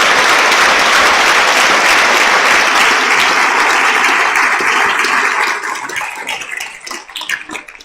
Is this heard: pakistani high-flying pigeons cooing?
no